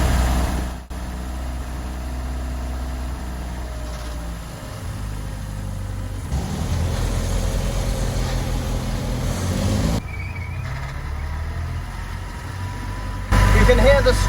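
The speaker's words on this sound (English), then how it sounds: "You can hear the straight cut first gear very nicely." Triumph car driving in first gear, its straight-cut gearbox giving a steady mechanical whine over a continuous engine drone that rises and shifts in spots, heard from inside the car with some talking.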